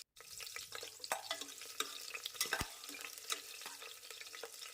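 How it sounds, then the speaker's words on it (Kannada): Green chillies fry in hot oil with bay leaf, cinnamon and whole spices, giving a steady crackling sizzle with repeated scraping stirs of a spatula. The sound is close and continuous, with no talk. "ಸ್ವಲ್ಪ ಫ್ರೈ ಮಾಡ್ಕೊಳ್ಳೋಣ ಹಸಿಮೆಣಸಿನ್ಕಾಯಿನ"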